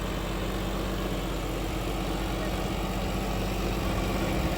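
A John Deere tractor driving an 8-foot rotavator runs with a steady, continuous engine drone and rumbling vibration, loud and unbroken throughout.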